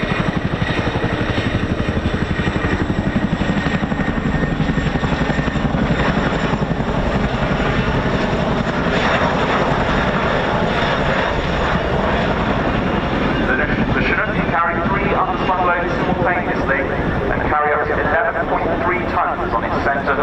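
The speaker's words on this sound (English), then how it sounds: "This quad bike attached to the aft hook weighs just 350 kilos, but if it can be rigged, the CHINOOK and the hookers can take it." A Chinook helicopter lifts a quad bike on its aft hook at the RAF Cosford air show. Its loud, continuous rotor thudding and engine roar fill the scene while an announcer talks over it.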